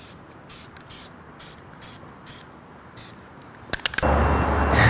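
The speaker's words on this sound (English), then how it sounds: "I laid down about 3 to 4 good coats of clear on this wheel" Duplicolor spray can laying clear coat onto a car wheel: short hissing bursts of spray repeat in an even rhythm, ending in a louder, steadier hiss up close.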